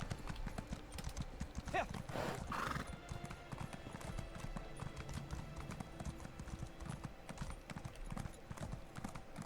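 A horse in a video game clops steadily along on its hooves and gives a brief whinny near the start, all set against a continuous busy background of game ambience.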